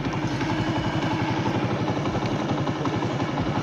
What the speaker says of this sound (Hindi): ये नौजवान आ तो रहा है, इसकी बाइक है।